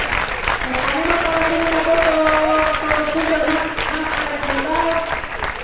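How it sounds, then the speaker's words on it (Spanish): Applause from the stands at Mendizorroza stadium during Araski vs Ourense: steady, dense clapping and crowd noise that runs throughout, with commentators talking over it. "el aplauso"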